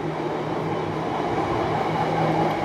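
A long freight train hauling cement carriages rolls past close by, a steady dense rumble of wheels and wagons with low clatter throughout and no talking.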